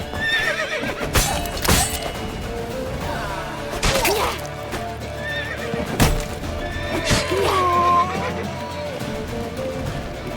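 Horses in The Witcher 3 whinny repeatedly over clattering hooves and sharp impact crashes in a chaotic chase, with shouting voices mixed into the loud, busy scene.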